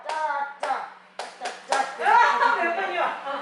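Hands clap in separate bursts during a clock clapping game for seniors, a few claps at a time with short pauses between them, while people talk over and between the claps.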